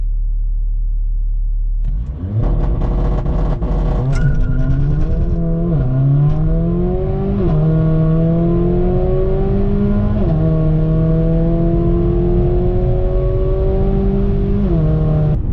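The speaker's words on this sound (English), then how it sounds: "So let's go ahead and try a launch in this thing." A Mercedes-AMG GLA45 with a tuned turbo control unit roars into a hard launch, revving up loudly through rising gear pulls with brief dips at each shift, close and continuous.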